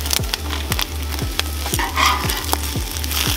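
Turkey bacon frying on a Blackstone flat-top griddle, a steady sizzle broken by regular scraping strokes of a large spatula about twice a second, close and fairly loud with no talking.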